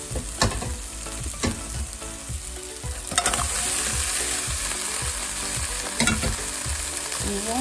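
Cooked octopus and crab frying in masala for a crab roast: a loud, continuous sizzle with regular scraping and clattering stir strokes in the pan, close up and with no talking.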